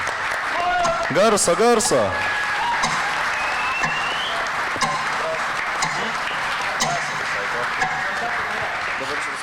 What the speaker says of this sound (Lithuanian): Garsiais plojimais padėkime svarstyklėms apsispręsti